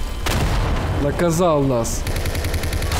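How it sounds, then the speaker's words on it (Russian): Cannon and artillery fire in the Garry's Mod sandbox game: a dense, continuous roar of booming blasts that runs through the whole stretch, with someone talking briefly over it. "Это была очень мощная пушка."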